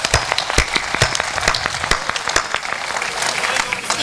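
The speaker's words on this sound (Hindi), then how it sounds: "एक बार आप खुद अपने सम्मान में तालियां बजाइए" Dense applause from an audience at a Hindi poetry gathering (kavi sammelan) in Sujangarh, with sharp claps throughout at close range.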